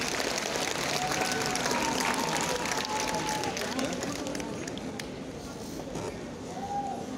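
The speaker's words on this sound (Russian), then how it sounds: "Аплодисменты." A concert audience at a Belarusian song-of-the-year show applauds a singer as she takes the stage, a dense, sustained roar of clapping from a large crowd that holds steady and then eases slightly, with faint voices mixed in.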